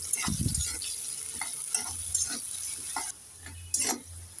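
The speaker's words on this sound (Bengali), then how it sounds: "দেখছো পেঁয়াজটাকে আমি লাল লাল করে ভেজে নিয়েছি" Chopped onions sizzle steadily in a hot pan with whole cumin while a spoon stirs and scrapes at intervals, with a few louder clatters of utensil against metal and no talking.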